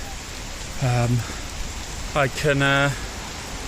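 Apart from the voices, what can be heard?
rain falling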